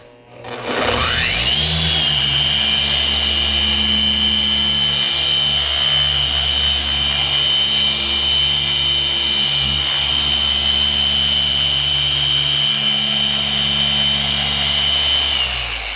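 A car paint polisher run at speed 4 for swirl removal spins up and holds a loud, steady whine with a constant motor drone, running alone and unbroken for the whole stretch.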